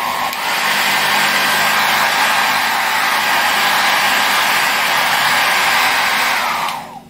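A Maspion MHD 104 hair dryer blows at its second, stronger speed setting, a loud, close, unbroken rushing whoosh that holds steady for about seven seconds before cutting off.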